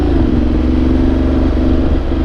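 A Ducati motorcycle on the move through an urban setting, its engine a loud, steady low drone with a throbbing exhaust note held throughout, close and unbroken by talk.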